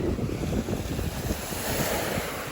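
Sea waves washing ashore at sunset facing Samal Island, a steady soft surf wash mixed with wind buffeting the microphone, no voices.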